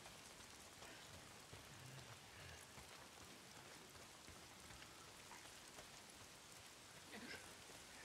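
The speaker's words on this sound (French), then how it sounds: "Il faut toujours qu'il pleuve." Soft, steady rain in the video game Days Gone patters continuously at low volume, an even hiss of falling drops with no other sounds standing out.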